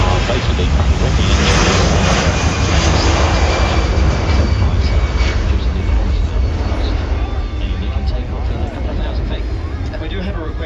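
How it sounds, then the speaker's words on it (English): Boeing C-17 jet engines roaring during a short tactical takeoff at the Avalon Airshow 2025, a loud, steady broadband rumble that fades slightly toward the end, with a voice talking over it. "So you'll see a fairly short tactical takeoff from the C-17."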